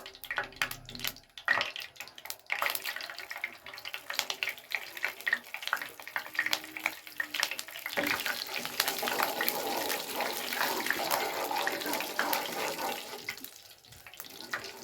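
Cumin seeds sizzle and spatter in hot ghee, a dense crackling hiss that swells and fades as the pan is stirred, with faint scraping and no voices over it.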